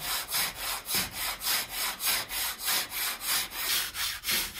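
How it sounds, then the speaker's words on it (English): Rhythmic back-and-forth rasping of sanding boards on a wooden carvel-planked boat hull, about a dozen even strokes in steady rhythm, close and clear with no voices. "After diagonal sanding with flexible boards, finish off with fore and aft sanding with a stiffer board"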